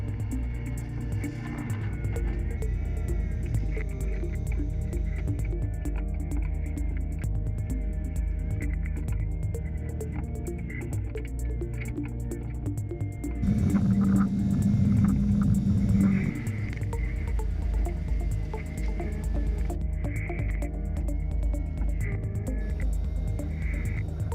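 Logging machine running as heard from inside its cab: a steady, enclosed engine drone and rumble throughout, swelling louder for a few seconds partway through.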